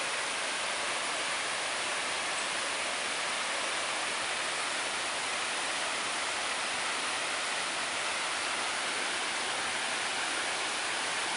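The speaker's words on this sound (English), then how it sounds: "Waterfall's coming up. I can hear it." A waterfall rushes beside the Appalachian Trail, a steady, even roar of falling water with no breaks, heard at a moderate distance without any talking.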